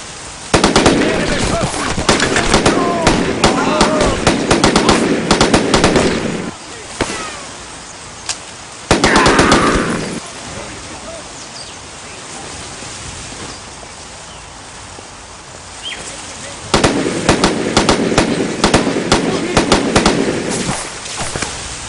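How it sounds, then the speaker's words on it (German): Rapid bursts of gunfire from the World War II shooter Brothers in Arms, loud crackling volleys in two long stretches with a quieter lull between. "Die schießen auf mich!"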